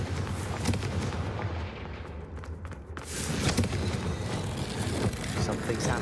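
A Confringo fire spell explodes in a wizarding adventure video game, making loud, continuous booming blasts with heavy low rumble that fill the whole stretch, briefly easing in the middle before swelling again.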